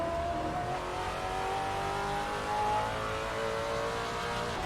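Race car in the video game Assetto Corsa, a continuous engine drone rising slightly in pitch as it revs, steady and fairly loud with no voices.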